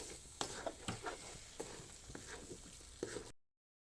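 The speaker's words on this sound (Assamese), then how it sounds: "যেতিয়ালৈকে কেৰাহীৰ পৰা উঠি নাহে তেতিয়ালৈকে এইখিনি ভাজি থাকিব লাগিব।" Lalmohan sweets fry quietly in a kadai while being stirred, with a soft sizzle beneath irregular spoon scrapes and taps that stop abruptly after about three seconds.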